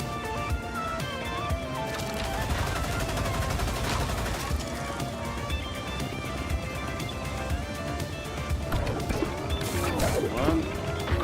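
Rapid video game gunfire and bursts of automatic shots crackle repeatedly and loudly, mixed with voices talking and other chaotic game sounds.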